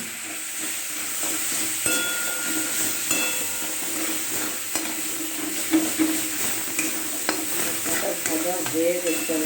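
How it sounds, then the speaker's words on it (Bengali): A spice paste of ginger, cumin and onion fries in a pan after jackfruit and potato, giving a continuous sizzle with frequent sharp spoon-and-pan scrapes and knocks from stirring. "এঁচোড় আর আলু ভেজে এখানে এই মশলাটা ভেজে নিলাম"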